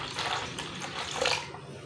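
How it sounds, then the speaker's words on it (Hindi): Water poured into lassi, a broad steady splash and trickle close by, continuous for a couple of seconds with a brief louder gush midway. "इसमें और पानी ऐड करेंगे।"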